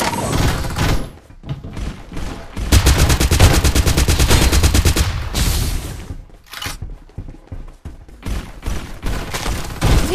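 Loud, rapid automatic gunfire rattles in Farlight 84, with a long sustained burst mid-clip flanked by shorter volleys and sharp thuds, then sporadic shots toward the end.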